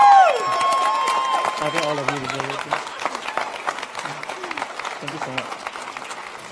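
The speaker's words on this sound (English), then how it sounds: "I'll let you bask in the applause for a bit here." Audience applause for the FameLab International 2016 champion fades behind a host speaking close to the microphone, the clapping fairly loud at first and then thinning out beneath the talk.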